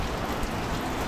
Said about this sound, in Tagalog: napakaulan dito sa Santa Rosa ngayon